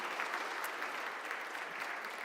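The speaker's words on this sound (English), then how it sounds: "I'll give them one more round of applause for all the people who made it this far" Sustained audience applause at a technology industry awards ceremony, a dense, even wash of many hands clapping at steady loudness throughout, with no talk over it.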